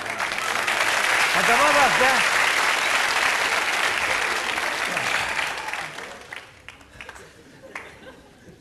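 Loud studio audience applause and cheering at a society event, sustained for about six seconds before fading into scattered claps, with a voice calling out over it.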